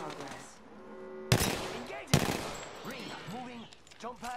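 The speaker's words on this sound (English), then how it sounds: "I'm getting shot at." Gunfire bursts in the video game Apex Legends, with two sharp loud volleys of shots amid a player's voice talking over the game sounds.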